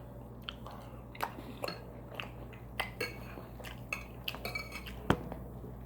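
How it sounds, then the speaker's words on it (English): Cutlery clinking and scraping on a plate during a breakfast-for-dinner meal, a series of sharp metallic scrapes and taps at an uneven pace, close and fairly quiet, with faint chewing between them. "Sorry for the scraping, you guys."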